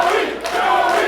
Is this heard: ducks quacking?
no